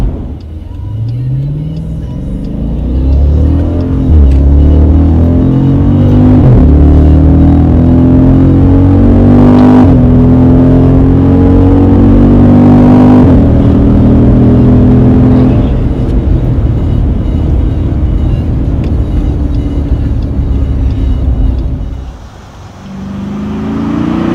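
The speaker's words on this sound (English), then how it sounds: "this car is really, really fast" A 475 hp Jeep Cherokee SRT engine revs and accelerates loudly from inside the vehicle, pitch climbing through several gear shifts before easing off near the end.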